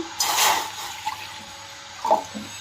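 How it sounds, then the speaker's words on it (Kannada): Water poured from a glass into a bowl sitting on a gas stove: a short splashing pour up front, then a few faint trickles and a small final splash. "ನಾನು ಒಂದು ಗ್ಲಾಸ್ ಅಷ್ಟು ನೀರು ಹಾಕ್ತಾ ಇದ್ದೀನಿ"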